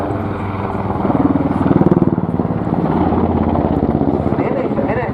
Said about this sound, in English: This one, the TTH, the Technical Transport Helicopter.